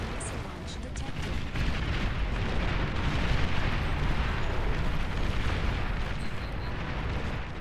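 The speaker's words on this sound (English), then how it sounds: "Missile launch detected." A missile launch in the strategy game Beyond All Reason, a sustained loud roaring rumble with explosive bursts layered over it, continuous throughout, with a voice speaking over the din.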